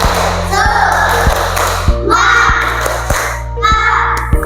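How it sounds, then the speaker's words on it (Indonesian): A classroom of students claps a rhythmic spirit clap together, several sharp group claps in a patterned beat with children's voices chanting between them, over a steady electrical hum. "kita tepuk semangat dulu"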